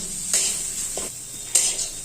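Lightly salted paneer fries in a pan with a steady sizzle while a utensil stirs it, giving a few distinct scraping clinks against the metal at irregular intervals.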